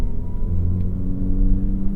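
2018 VW Golf GTI SE with a 2-liter turbocharged inline-4 engine, a low steady rumble and whir from inside the cabin while driving, with no talk over it.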